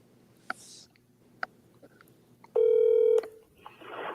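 Telephone dialing from a computer on speakerphone: a few soft key clicks, then a loud steady dial tone for under a second, followed by a short burst of noise, with no talking.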